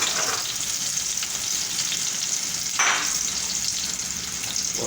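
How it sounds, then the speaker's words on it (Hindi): Green chillies, slit and still wet, fry in hot oil with a steady close sizzle and crackle, swelling into a brief louder hiss partway through. "जब मिर्चें थोड़ी गीली थी जिसकी वजह से एकदम तलने में जो है पानी की वजह से इसने आवाज़ की।"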